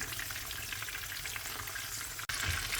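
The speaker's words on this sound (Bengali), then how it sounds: "এখন আমি ভাজতে দিয়ে দিব" Chicken cheese rolls fry in hot oil with a continuous, fairly quiet crackling sizzle, broken once by a brief sharp knock near the end.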